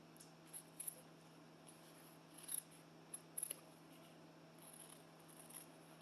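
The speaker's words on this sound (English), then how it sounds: "I'm just going to take my scissors, make a gash there in the center, and then get to the lines." Scissors snip through material along a line traced in Sharpie for a Halloween bats runner pattern, giving faint, scattered cuts and brief bursts of clipping with quiet pauses between them.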